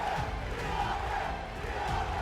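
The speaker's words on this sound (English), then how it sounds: "And you can hear the crowd chanting, TRK." Esports arena crowd at a Gamers8 2023 playoff match chanting a player's name, a dense, steady roar of many voices filling the space without pause.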